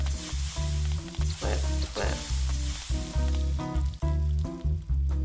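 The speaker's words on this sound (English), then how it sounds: "let's put some patties on the grill" Burger patties sizzle on a grill in a cooking video game, with bursts of frying hiss over a repeating melodic game soundtrack, fairly quiet and steady with brief dips.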